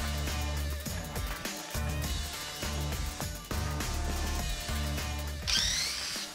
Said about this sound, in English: we will go ahead and remove all 50 drywall screws